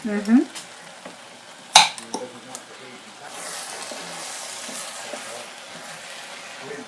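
Onions cooking in a pan for French onion soup, soft frying sizzle with occasional stirring clatter and a sharper utensil knock, steady and close with no talking.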